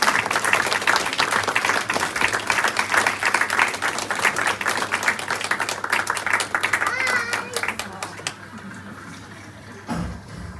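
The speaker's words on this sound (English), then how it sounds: "Can we keep that applause going?" Applause fills a funeral reception: a dense, steady crowd clapping for several seconds with a voice briefly rising above it, then thinning out and fading near the end.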